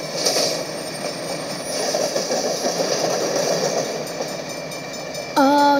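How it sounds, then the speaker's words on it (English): A steam engine train rumbles steadily past nearby with a mechanical churning hum, then a bright, sustained whistle blast sounds at the end. "the steam engine"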